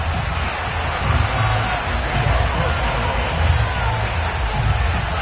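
Sold-out stadium crowd in the Madden 22 football game, Bills versus Colts, roars in a steady, dense wash of cheering and babble that swells slightly around the middle, continuous and loud throughout.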